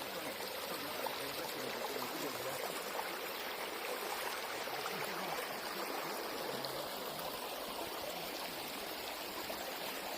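A river rushes past stepping stones near Castle Crag, a steady broadband wash of flowing water that stays constant and close for the full length, with no voices.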